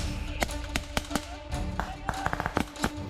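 Sharp, separate gunshots crack during a night-time military assault firing exercise, about a dozen irregular reports of varying loudness, some close together in quick bursts, with no talk.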